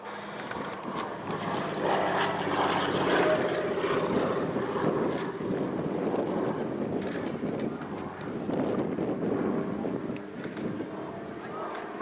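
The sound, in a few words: electric-engined Beaver float-plane flying past at air show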